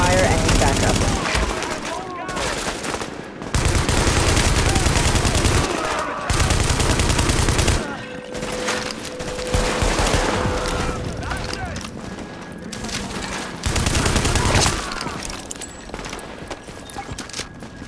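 Bursts of rapid gunfire from a firefight in The Division, a third-person shooter set in a city where JTF units are under attack, come in loud volleys separated by short gaps, with voices speaking among them.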